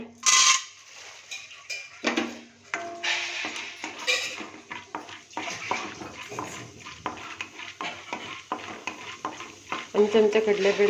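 Chana dal fries in hot oil at the start of a tomato chutney, a close crackling sizzle broken by frequent spoon scrapes and clinks against the pan, rising to a brighter spatter toward the end.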